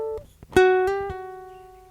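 Ukulele playing a brief passage, a few plucked notes with a hammer-on and pull-off, then a held note ringing and fading, close and clear without speech.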